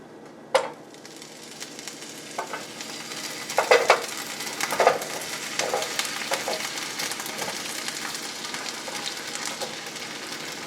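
Chicken fries in a pan, a steady soft sizzle punctuated by several sharp scraping and stirring clatters of a utensil against the pan, close by, with no talk.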